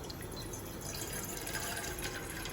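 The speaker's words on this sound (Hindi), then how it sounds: "उसके अंदर हम" Water poured into a pan on a gas stove makes a steady, close, hissing splash that stays even throughout, with no talking.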